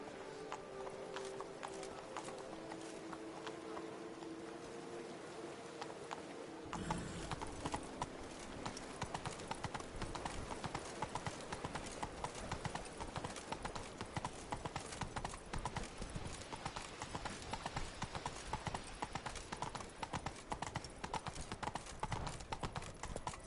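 Hooves of the horse Roach clip-clop steadily as she gallops in The Witcher 3, starting after a quieter stretch with sustained tones and continuing as a dense, even beat to the end.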